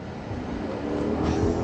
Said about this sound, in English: That is the glorious sound of the Quattroporte in full song.